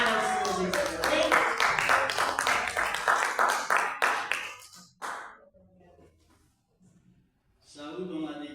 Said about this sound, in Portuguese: Vamos receber o irmão com palmas alegres para o Senhor Jesus.